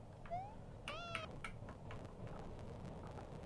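A cat meows several times in a horror video game, a rising cry followed by a cluster of short mewing calls, fairly faint over a steady low background hum, no talking.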